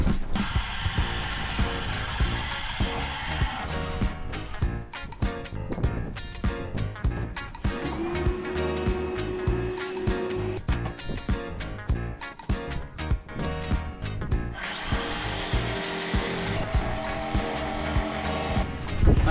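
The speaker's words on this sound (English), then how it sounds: "I'm sure you could see how hard I was pushing with the jigsaw" A jigsaw fitted with a metal-cutting blade saws a hole through a tough boat fuel tank where the sending unit mounts, a loud, continuous rasping buzz that wavers as the cut is pushed hard, broken by brief pauses.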